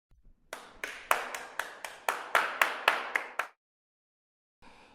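People in a New York street crowd clap for a street juggler: about a dozen crisp, evenly spaced claps that build slightly in loudness, then stop, followed by a faint bit of noise.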